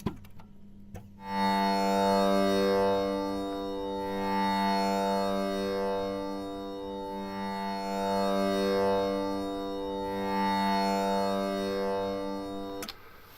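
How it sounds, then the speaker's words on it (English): A steady tambura drone in stereo with rich, sustained overtones, swelling gently and shimmering continuously for over ten seconds, heard alone at even loudness. "A tambora in stereo sounds like this."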